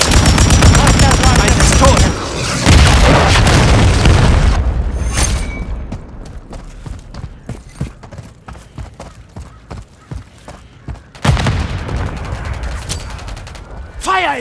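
Heavy explosions and rapid gunfire fill a Call of Duty Modern Warfare 3 multiplayer match, a loud dense burst of blasts at first, then a steady rattle of shots, with another loud barrage near the end.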